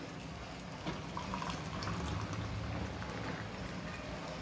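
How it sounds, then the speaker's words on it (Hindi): Hot water poured onto a squeezed lemon in a cup, heard as a steady, soft liquid splashing and filling sound that runs evenly throughout without talk. "अब इसमें हम लोग एकदम गरम गरम पानी डालेंगे"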